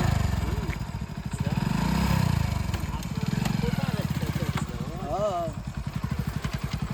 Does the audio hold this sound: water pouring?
no